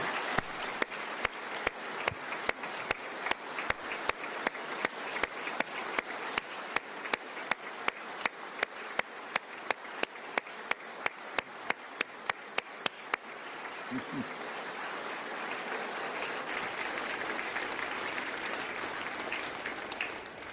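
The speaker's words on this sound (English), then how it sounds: "Will you please give her a round of applause?" An audience on the House floor at a state address applauds steadily for about thirteen seconds, a broad wash of many hands, then it fades into a hissy room murmur.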